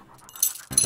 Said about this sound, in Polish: O, taki dobry pieseł.